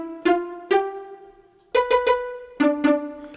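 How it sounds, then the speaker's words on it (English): Pizzicato strings patch from a Roland MC-303 groovebox, bank 6 sound 13, playing plucked chords that sound clearly and alone, each with a sharp attack and a short ringing decay, in groups of two or three. "sound number 13, the Pizzicato strings"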